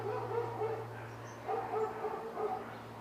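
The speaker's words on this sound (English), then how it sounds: "All of a sudden there's a bunch of dogs barking in the neighborhood." Several neighborhood dogs bark and yip at a distance, their calls rising in a few overlapping bursts over a steady low hum.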